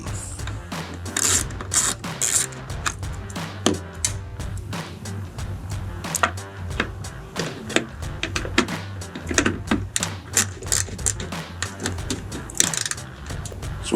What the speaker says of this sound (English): I've got a 7mm socket, extension, and a 1/4" ratchet